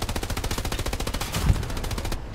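A machine gun fires in the WWII shooter Hell Let Loose in a steady, rapid string of close, loud shots, about two seconds of continuous fire with no voices over it.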